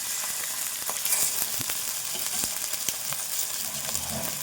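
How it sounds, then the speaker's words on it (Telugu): Goat liver frying in half a spoon of oil with salt and turmeric: a steady, close hiss of sizzling with small crackles and pops, with no one speaking. "ఇది కొద్దిసేపు మంచిగా ఫ్రై చేసుకోవాలి."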